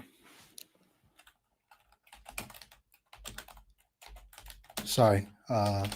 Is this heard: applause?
no